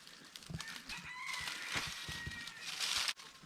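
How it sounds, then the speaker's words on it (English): Chickens on a farm, clucking and calling in a busy overlapping stream at moderate distance, with several brief sharper calls standing out against steady background noise. "Chickens."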